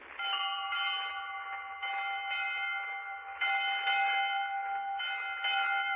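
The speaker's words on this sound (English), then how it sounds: "that bell calls class to order" A ringing bell on a vintage radio quiz show for children sounds alone in a sustained, bright metallic peal, struck anew about four times at even intervals.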